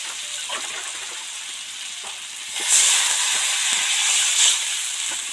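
Water poured into a hot pan of spiced potatoes and tomatoes for a fish curry with okra sets off a sharp hiss and bubbling surge partway through, over an ongoing low frying sizzle.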